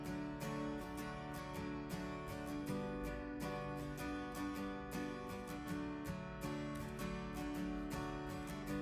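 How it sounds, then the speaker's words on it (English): Full band chorus of a pop-rock song with strummed acoustic guitar woven into a dense mix of drums and other instruments, rhythmic steady strokes throughout, played quietly. "Yeah, that's the acoustic guitar."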